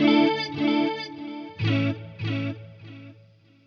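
Electric guitar played through a Line6 Helix with reverb placed ahead of a delay, sustained chords ringing out with washy tails, each strum decaying smoothly into the next.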